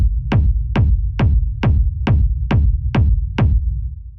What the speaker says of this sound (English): So this is a pretty standard rumble kick.